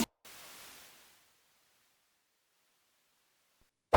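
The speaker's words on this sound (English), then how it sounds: "I'm adding a bit of white noise in the background, just to simulate a slightly imperfect recording" A short burst of soft broadband hiss fades out over about a second, followed by near silence and a sudden loud burst at the very end.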